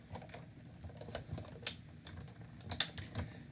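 A manual die-cutting machine is hand-cranked to feed a layered paper-and-die sandwich through its rollers for a card project. It gives faint, irregular soft clicks and ticks, close by and quiet, with no talk.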